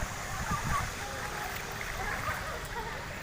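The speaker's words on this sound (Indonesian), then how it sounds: "Nah itu, air ngalir kayak gitu." Tidal flood water flows through a school yard with a continuous rushing, gurgling wash and occasional splashes, close and steady throughout.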